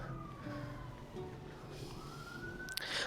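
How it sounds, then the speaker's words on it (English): An emergency vehicle siren wails in the distance beyond a small village garden, its rising and falling tone faint but clear over quiet outdoor background, with no one speaking. "I don't know if you can hear that siren, but we get a lot of those around here for a little tiny village."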